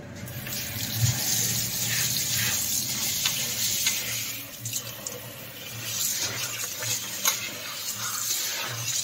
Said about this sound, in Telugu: ఇప్పుడును కడిగేస్తాను రెండు రెండు మూడు సార్లు శుభ్రంగా కడిగేసి